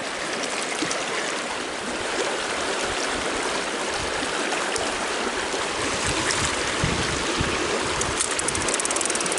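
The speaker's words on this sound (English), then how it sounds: "using the noise of the rapids" Rushing river rapids roar in a continuous, broadband wash of turbulent water, steady and close, with no voices.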